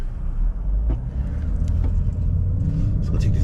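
A truck pulls away on wet roads toward the freeway, its engine a steady close rumble with a few faint clicks and knocks over it.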